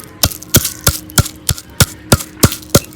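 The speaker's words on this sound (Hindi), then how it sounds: "इलायचियों को मैंने इस तरह थोड़ा सा कूट लिया" Green cardamom pods being crushed by pounding, eight sharp evenly spaced knocks about a third of a second apart, close and loud with no talking.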